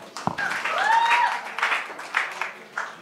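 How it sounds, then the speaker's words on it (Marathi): Audience applause for a contestant on a Marathi stand-up comedy show, a brief burst of clapping lasting a few seconds with some cheering over it. "एकदा जोरदार टाळ्या झाल्या पाहिजे लकी गुगळेसाठी."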